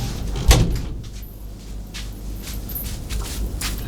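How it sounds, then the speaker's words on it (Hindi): A door in a house setting in a Hindi comedy film is shut with a single sharp thud near the start, followed by quiet room ambience with faint shuffling. "दरवाजा लगा के आती हूँ"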